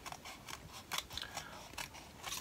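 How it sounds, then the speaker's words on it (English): Scissors snip through paper while cutting out a scrapbooking heart, giving a close, crisp series of irregular clicks and slices with brief pauses between cuts. "you want to move the paper, not your scissors. That'll create a cleaner cut and round and a lot better on curves."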